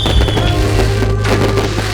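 Fireworks burst over a night lantern release in Bulukumba, making a loud, dense, continuous crackle and rumble of overlapping explosions that stays strong for the full two seconds.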